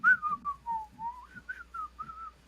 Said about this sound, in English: he's whistling and walking